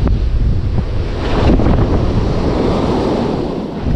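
Rough sea surf churns steadily off a Jamaican fishing boat while strong wind buffets the microphone, a continuous loud roar of waves with no voices.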